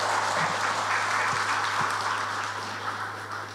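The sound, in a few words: audience applause at a political party rally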